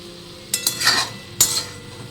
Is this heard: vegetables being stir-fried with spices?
yes